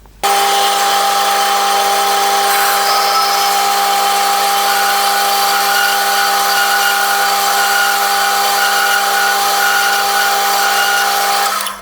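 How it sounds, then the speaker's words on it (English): A bandsaw cuts through metal stock in a workshop, a loud, steady whine with sustained tones that runs unbroken for about eleven seconds, with no talking. "I'll go and cut that off in the bandsaw"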